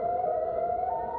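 Tinker Air Force Base siren drones as a distant, steady tone that rises slightly in pitch near the end, faint and heard alone.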